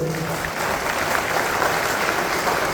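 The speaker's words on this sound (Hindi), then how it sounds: "आप अपने लिए भी जोरदार ताली बजाए।" Audience at a college talk applauding, a dense continuous wash of clapping that holds steady and fairly loud throughout, with no distinct individual claps standing out.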